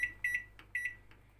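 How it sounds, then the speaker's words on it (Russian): Microwave oven on a defrost setting with frozen dumplings inside, giving two sets of three quick, clear electronic beeps separated by brief pauses over a low steady hum, quiet and close. "Я ставлю это в микроволновку."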